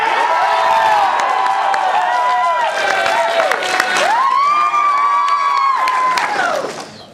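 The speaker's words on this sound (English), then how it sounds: "If you think they won, round of applause." Loud crowd cheering and whooping at an anime convention debate, overlapping high-pitched shouts and scattered clapping swelling across several seconds before fading at the end.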